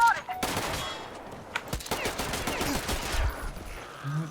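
Gunfire in the video game Metro: Exodus crackles in rapid bursts of close, loud automatic shots that overlap and echo through the scene.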